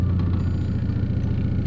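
A rare Volkswagen Golf MK3 with an automatic gearbox drives around the block, giving a steady low engine rumble from inside the car.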